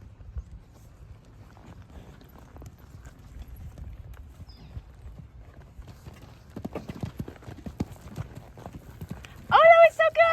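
A young horse trots through a jumping grid, its hooves clip-clopping in a quickening rhythm on the ground and growing louder as it approaches, followed by a brief close snort or whinny at the end.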